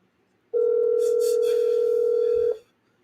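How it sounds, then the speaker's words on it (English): A single steady telephone dial tone sounds for about two seconds, loud and close, starting and stopping abruptly in otherwise near silence while a call is placed. "Let's go ahead and return this phone call"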